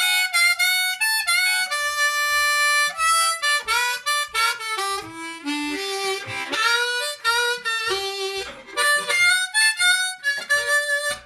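Harmonica played with expressive wailing bends, loud and close, bright sustained reed tones sliding up and down between held notes and quick melodic runs, with no other instruments or voices.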